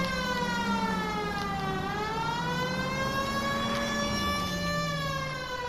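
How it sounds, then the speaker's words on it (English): Police car siren in the video game L.A. Noire, a wailing tone sweeping slowly up and down, loud and continuous under a low engine hum. "Definitely siren on for sure."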